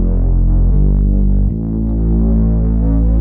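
Layered synth bass presets play chord root notes as a loud, deep, sustained tone that changes pitch twice, droning alone with a throbbing low end.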